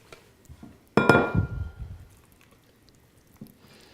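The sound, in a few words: scooping pesto into a bowl with a spatula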